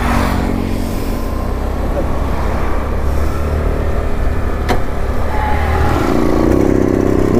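A Rajdoot 175 two-stroke motorcycle is ridden in second gear, its engine making a steady, close, rough drone mixed with wind rush, with brief talk now and then.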